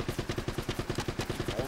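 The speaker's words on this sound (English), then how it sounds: "Looks like they're shooting from your right, so you should go that way." Rapid, loud gunfire from enemies in the video game Uncharted: Drake's Fortune rattles in an even burst of about a dozen shots over nearly two seconds.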